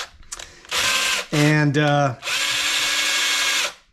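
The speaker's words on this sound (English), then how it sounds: "A non-key drill will cut right through those bolts." A power drill with a hardened bit bores through bolts on a King Ranch build, loud close bursts of whining motor with a grinding, straining pitch as the bit bites, under a brief spoken word.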